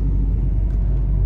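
A car drives on mountain roads in Himachal, giving a close, steady low engine and road rumble heard from inside the vehicle, with no talking.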